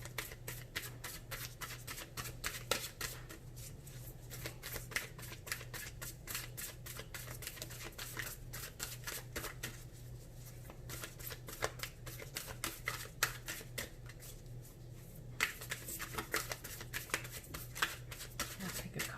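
Tarot cards are shuffled for a reading in quick, papery riffles and soft slaps that come in steady, fairly faint bursts, with a voice speaking now and then.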